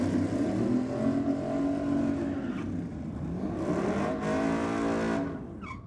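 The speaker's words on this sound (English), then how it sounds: "Big burnout out of the Roadster." Roadster drag car doing a big burnout at Sydney Dragway, a loud sustained engine roar with rising and falling revs, plus brief sharp bursts near the end.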